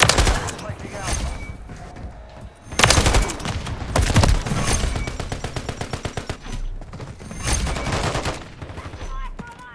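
Dense bursts of rapid automatic gunfire and single shots fill a video game battle, loud and close, with volleys swelling and fading repeatedly across the stretch.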